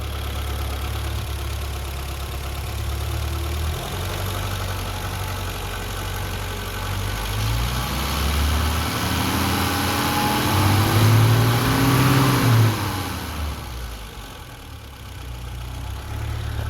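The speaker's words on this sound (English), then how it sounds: "I'm gonna rev it up for you." A 1982 BMW 320i with 253,000 miles idles steadily, then revs up in a smooth rising and falling sweep before settling back to idle, close and clear with no talking.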